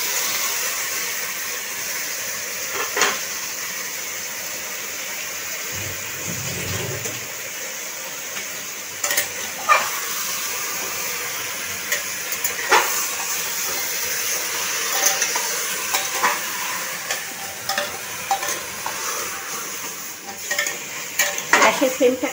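Marinated chicken sizzles in a pot over a gas flame while it is stirred, the steady frying hiss broken by scrapes and clinks of a spoon against the metal, close and free of talk.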